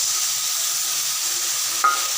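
Potatoes and spices fry in a pan with a steady, bright sizzle and hiss, joined near the end by a short, sharp spit as a little water hits the hot oil.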